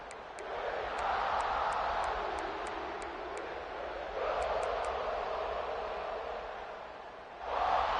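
A stadium crowd in College Football 26 on PS5 swells in steady waves of cheering and noise, with a bright surge near the end and short repeated whistle-like tones above it.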